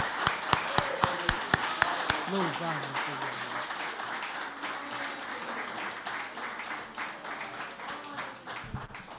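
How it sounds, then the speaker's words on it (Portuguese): A church congregation at a Communion service claps. A few sharp hand claps start it, then applause grows into a steady, fairly faint wash under a voice speaking. "Vamos dar uma salva de palmas para Ele."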